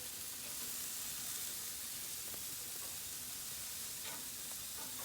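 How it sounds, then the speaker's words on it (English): Burgers searing face side down on a hot grill, a steady, dense sizzle throughout with no pauses. "just going to put these face side down, just like that. Give them a nice sear."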